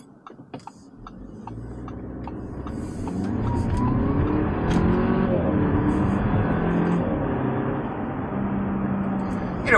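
A 2022 Audi A4 35 TFSI with a small 2-litre engine pulls away, its engine note rising steadily and staying strong under the cabin hum, with a faint ticking early on.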